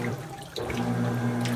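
Water rushing into the tub of a GE GTW680BSJWS top-load washing machine during a tub clean cycle, a steady close hiss of filling water with a low hum and no talking.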